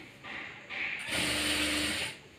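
A sewing machine stitches a blouse sleeve in short mechanical bursts, a quick rattling whir that starts, pauses briefly, then runs longer and louder before stopping.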